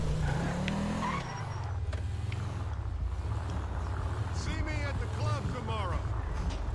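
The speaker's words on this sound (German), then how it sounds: "Klingelt ein bisschen der Motor. Hört ihr das?" A worn car engine pinging and knocking in Grand Theft Auto 5: a steady, low, rough drone runs throughout, with brief tire squeals and faint voices in the game scene.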